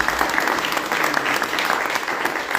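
An audience at the opening ceremony of a poetry festival applauds, dense steady clapping that stays close and loud throughout the short stretch.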